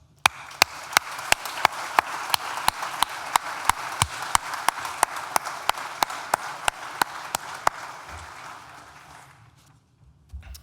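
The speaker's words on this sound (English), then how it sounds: "Graduands, please join me in a round of applause to thank all those who have supported you on this incredible journey" A graduation ceremony audience at NTU's School of Animal, Rural and Environmental Sciences claps in sustained applause, with sharp louder claps standing out, before it fades out near the end.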